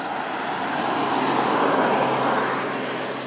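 A car rolls past on a steep hill road along Somerset Drive, a broad steady whoosh of tyres and engine that swells to a peak midway and eases off, close and loud with no talk.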